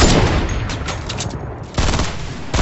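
Gunfire in the video game Fortnite crackles in dense, loud bursts of rapid automatic shots, nearly continuous with a brief lull before it picks up again.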